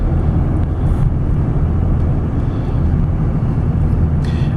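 A 2002 Dodge Ram 2500 with a 5.9 liter Cummins turbo diesel runs with a loud, continuous low rumble and dense throbbing, steady throughout with no talking over it.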